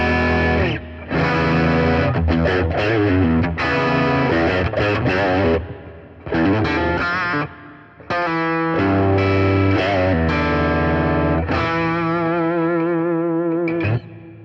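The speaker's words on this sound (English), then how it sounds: "basically a boost pedal into an amp with a reverb pedal" An electric guitar plays through a Zoom G3Xn multi-effects unit set to a boost into an amp model with reverb: loud, driven chords and single-note phrases with short pauses, ringing out with a reverb tail at the end.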